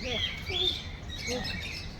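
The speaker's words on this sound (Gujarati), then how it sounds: "આ પોપટ છે મિત્રો" Parrots in a park enclosure chirping in short, high whistled calls, several in succession, moderately close against a low background murmur.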